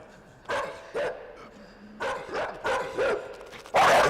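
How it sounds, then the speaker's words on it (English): A dog attacks in the video game INSIDE, a series of loud, close snarling barks in bursts ending in a harsh mauling burst, with no talking. "We got our face eaten by a dog."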